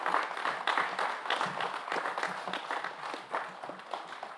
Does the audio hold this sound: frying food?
no